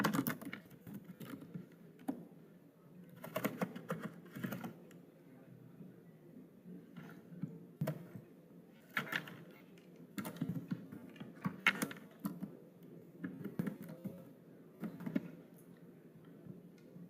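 A name is typed on a computer keyboard in soft, close clusters of key taps separated by brief pauses, with a voice speaking now and then in between.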